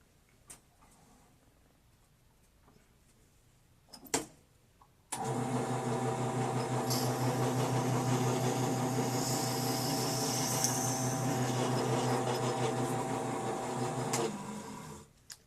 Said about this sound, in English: And now I have to drill a little bit more with the 10mm bit again.